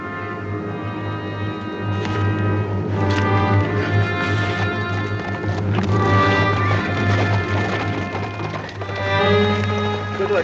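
Horses ride out, hooves clip-clopping steadily on the ground at mid distance, a continuous run of hoofbeats with low rumble and occasional sharper knocks under a faint background hum.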